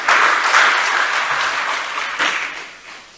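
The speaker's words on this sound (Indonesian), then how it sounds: "Tepuk tangan untuk beliau kembali" A large audience at a formal Indonesian state ceremony claps loudly and steadily, a dense wash of hands that swells briefly near the end before tapering off.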